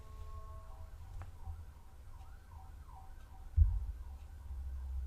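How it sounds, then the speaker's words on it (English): A fire truck siren wails faintly in the distance, its rising and falling tone carried over a low, steady rumble of background noise, with no one speaking. "it's fire truck engine or siren"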